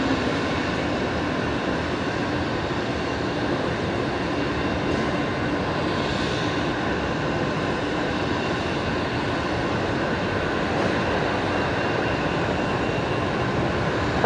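A Qantas airliner landing at Brisbane Airport at night: a loud, steady broadband roar holding evenly throughout with no talk.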